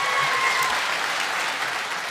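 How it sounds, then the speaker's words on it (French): Full, sustained applause from a comedy show audience cheering a contestant, a dense wash of clapping that stays loud and even throughout, with no speech over it. "On peut l'applaudir"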